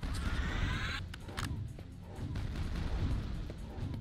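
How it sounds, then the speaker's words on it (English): Explosions in the shooter game Quake II: The Reckoning: a few booming blasts and crackling bursts at moderate level over a rumbling background. "Those explosions sound intentional."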